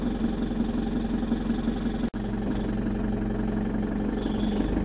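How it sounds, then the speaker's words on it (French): A camping-car engine idles steadily to warm up, a close, constant low rumble that continues alone apart from one brief click partway through. "Je le laisse bien tourner un peu pour qu'il chauffe le moteur."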